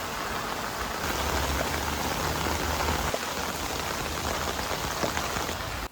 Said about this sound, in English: I put the Arete through 48 hours of non-stop rain.